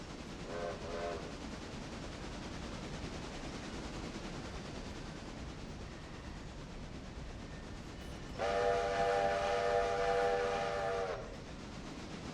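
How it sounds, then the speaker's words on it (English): Trains rolling past a railroad vantage point, a steady low rumble of rail traffic throughout, with a loud horn blast sounding for several seconds near the end and a faint horn earlier. "Watch the trains roll by."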